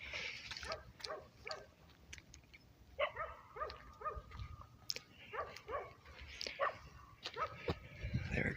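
Several dogs bark, yip and whimper in the distance in a small quiet town, scattered bursts repeating through the stretch, faint and soft with no foreground talk.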